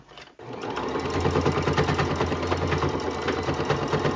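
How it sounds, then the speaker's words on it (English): A sewing machine stitches a skirt waistband closed, running steadily after a brief pause with a fast, even mechanical chatter, close and clear. "Now we can sew off this open pocket here."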